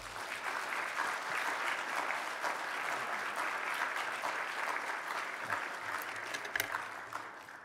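A church congregation at a New Year special dawn prayer meeting applauds to welcome a pastor to the pulpit, a steady even wash of clapping that holds throughout with no talk.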